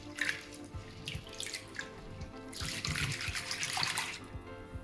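Water splashes and sloshes as chana dal lentils are rinsed by hand close up, with running-water trickles and small drips, no speech.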